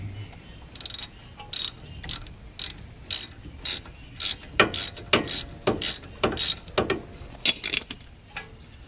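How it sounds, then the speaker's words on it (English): A ratchet wrench clicks in short, rhythmic bursts during brake work on a 1995 Toyota T100, close and crisp, each stroke a quick run of pawl ticks separated by brief pauses. "Hardest part about this job really is just turning the wrench"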